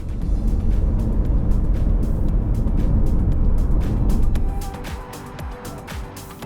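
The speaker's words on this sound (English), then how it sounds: "This electric propulsion sound, it really gets your juices flowing." A Lexus UX electric crossover is driven with a steady, loud rumble of road and motor noise. The sound eases noticeably quieter after about four seconds, leaving a softer hum with faint tonal traces.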